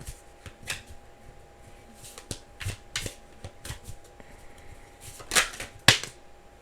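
Tarot cards being shuffled by hand, a series of soft riffling flicks and taps in an irregular rhythm, close and moderately quiet, ending with a couple of sharper snaps, no voices.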